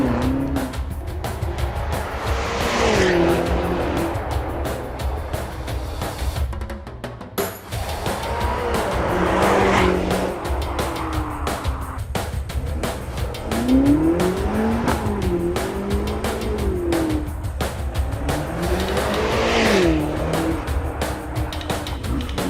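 An all-wheel-drive SUV turns and accelerates hard, its engine rising and falling through repeated pulls with bursts of tire noise, loud and close with a steady roar between throttle surges.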